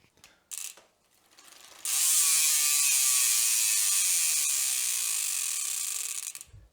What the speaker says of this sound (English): the rear hub is a fairly current Industry 9 Hydra single speed hub